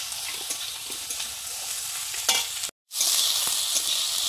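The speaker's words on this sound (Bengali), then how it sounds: "সবজিগুলো আগে ভেজে নিচ্ছি।" Vegetables frying in a pan over a strongly burning stove, a steady bright sizzle with occasional stirring clinks, briefly cutting out near the end before resuming loud and close.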